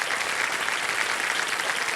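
Studio audience applause on a Hindi television quiz show set, steady dense clapping filling the whole stretch at even loudness, with no talking over it.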